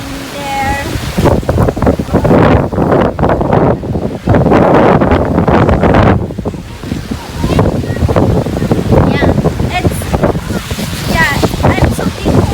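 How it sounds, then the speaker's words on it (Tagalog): Strong storm wind, gusts up to about 60 mph, roars loudly and continuously through trees on a street, with rustling and buffeting against the microphone while people talk. "It's very windy in there."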